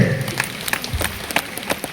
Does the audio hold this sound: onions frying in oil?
no